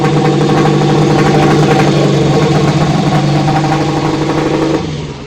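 A turbocharged car engine with a leaking exhaust joint, restarted and idling: a loud, steady, rough mechanical drone with a pulsing rasp throughout, close by, easing off at the very end with no talk.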